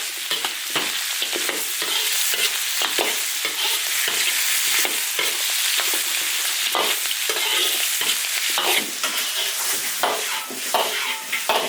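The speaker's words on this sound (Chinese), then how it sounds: "加点生姜，加点干辣椒，" Ginger and dried chilies stir-fried in an iron wok with rendered fat from cured pork, giving a loud continuous sizzle broken by repeated scraping strokes of the spatula throughout, with no talking.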